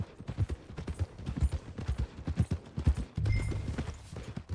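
Horse hooves clip-clopping at a walk in Red Dead Redemption 2, a steady close rhythm of hoof strikes on ground, with a low rumbling texture joining near the end and no talk.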